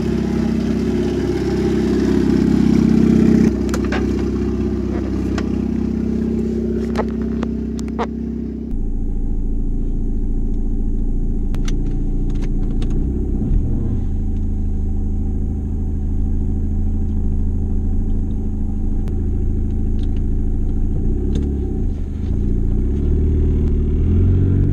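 Turbocharged 1996 Nissan 200SX SE-R on the move, a steady close engine rumble with road noise throughout, shifting character partway through as the car accelerates, with no talking.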